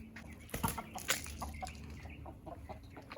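Chickens settling into a newly built run give a series of irregular clucks and short squawks, close and fairly loud, with a brief flutter of wings and light background noise.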